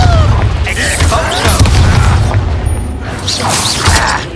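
A Confringo blasting spell detonates in the video game Hogwarts Legacy, a dense rumbling burst of booms and debris-like crackle that stays loud and continuous throughout, with a voice woven into the din.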